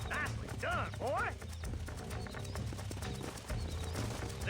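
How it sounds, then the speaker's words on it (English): Horse hooves clip-clop in the Western video game Red Dead Redemption, a rhythmic trot running under game music and a brief whinny while characters talk over it. "You get back on your own horse."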